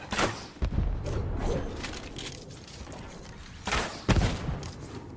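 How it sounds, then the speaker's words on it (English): A guided missile explosion in the Fortnite video game sounds as two muffled booms over a low, rumbling background, one at the start and another deep thud near the end. "Guided missile!"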